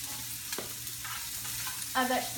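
Salmon and vegetables fry in a pan with a steady low sizzle, broken by a brief stirring clatter and a louder burst of sizzling near the end.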